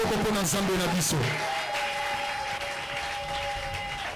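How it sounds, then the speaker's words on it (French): A church congregation at an evangelism campaign in Kikwit applauds and cheers for God, a dense wash of clapping under a voice and a sustained sung tone. "Est-ce que nous pouvons acclamer pour notre Dieu?"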